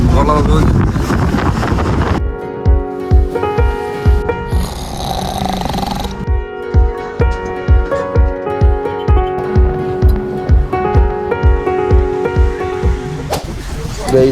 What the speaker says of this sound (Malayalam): നല്ല കാറ്റൊക്കെ ഉണ്ട്